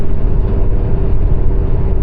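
A 2028 Chevy Malibu with 475,000 miles cruises at highway speed near 70 mph, a steady low engine and road drone with constant broadband tire and wind rush, even and unbroken throughout.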